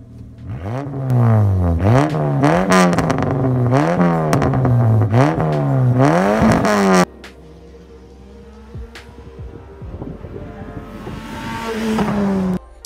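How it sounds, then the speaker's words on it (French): Peugeot 205 exhaust revving hard and loud in repeated surges for about seven seconds, then dropping to a quieter, steadier engine drone. "Et l'échappement de la 205 est sympa"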